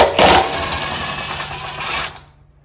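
A power driver with a 10mm bit spins out carburetor screws on a Generac 5500 generator, a loud whirring buzz lasting about two seconds before cutting off.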